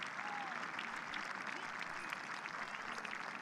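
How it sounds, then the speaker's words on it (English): Crowd applause at a rugby match, the Rugby Europe Super Cup, as a cart carrying an injured player is driven off the pitch: steady, sustained clapping from a distant stadium crowd with a soft murmur mixed in. "there's the round of applause as the cart is wheeled out of play"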